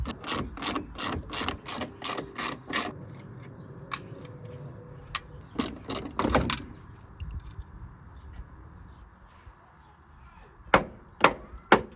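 A ratchet loosens the top strut nuts on a Nissan Primera P11. Bursts of rapid, sharp clicking come in quick runs, with quieter gaps of handling noise between them. A few loud single clicks close the sequence.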